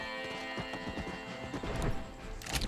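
Horse hooves clopping at a gallop in the video game Red Dead Redemption, a fast rhythmic run close up with game sound effects layered over it and a brief whinny-like burst near the end.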